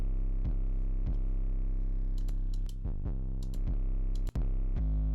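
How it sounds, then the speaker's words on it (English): An 808 bass in a UK drill beat, heavily distorted through a cranked limiter, a thick buzzing low tone sustained under sharp repeated clicks and hits with a brief dropout near the end. "So then the 808 sounds like this at this point."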